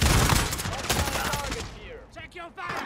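Dense, loud bursts of rapid gunfire in the Call of Duty Warzone video game, a rattling fusillade up front that thins into scattered shots and fading echoes, with a voice faintly present in the mix.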